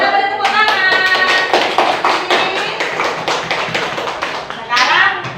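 Children in a classroom clap together in a rapid, rhythmic burst of hand claps, loud and close, with young voices chanting along over the clapping.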